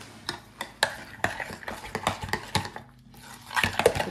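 Macaroni salad with dill being stirred in a bowl, a close series of irregular clicks and scrapes from a utensil against the dish, with a brief pause before a busier flurry of stirring.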